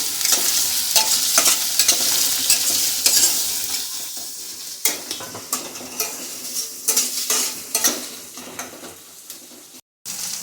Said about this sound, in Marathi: आता कांदा आणि अदरक लसूणची पेस्ट छान गोल्डन ब्राऊन होईपर्यंत भाजून घेऊया